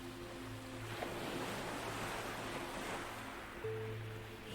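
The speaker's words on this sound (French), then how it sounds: "tu peux entendre les petites vagues qui viennent s'échouer sur la plage" Small waves wash gently onto a sandy beach in a soft, continuous hiss that swells and recedes, quiet and with no voices.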